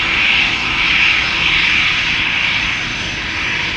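An EasyJet Airbus A319 jet departing Amsterdam Schiphol, its engines a loud, steady close roar with a strong hissing upper band that holds level throughout.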